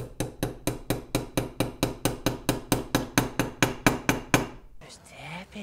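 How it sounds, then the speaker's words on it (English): A small brass hammer taps steadily about twenty times in an even rhythm, crisp and close, tapping in pressed-in carburetor pilot jets, then stops. "so I got a little brass hammer here"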